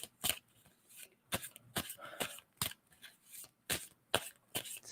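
Tarot cards shuffled by hand in a steady run of about a dozen sharp, crisp riffling bursts, close and fairly quiet, with no talking.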